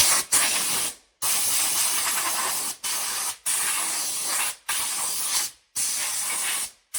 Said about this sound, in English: let me get my air going so that I can blow this clean